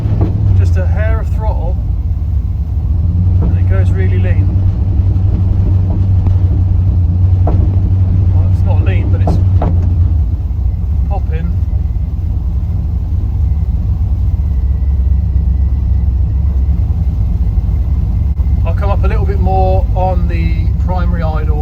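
An LS-swapped second-generation Firebird with a carburetor idles with a slight touch of throttle, a steady low rumble running throughout while someone talks over it at intervals.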